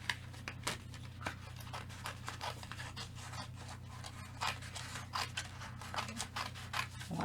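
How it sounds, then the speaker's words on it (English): Metal snips cut around taped-down paper shapes, making a series of close, crisp snipping and scratching strokes in an irregular rhythm over a steady low background hum. "Get out my snips. We kind of cut around"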